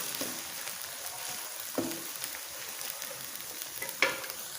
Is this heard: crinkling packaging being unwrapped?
no